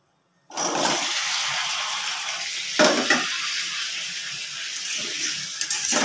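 Potato pieces tipped into hot oil left from lightly frying paneer, giving a loud, steady sizzle that starts abruptly and carries on with small crackling bursts, with no talking.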